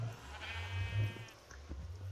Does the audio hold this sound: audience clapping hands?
no